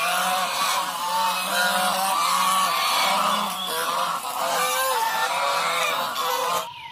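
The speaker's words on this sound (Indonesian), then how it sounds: "ada hewan angsa" Goose honking loudly and continuously, close, with repeated nasal calls layered over a steady background hum.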